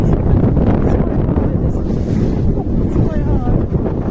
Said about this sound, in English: We've got a bit of rain, a bit of splashing, a bit of wind.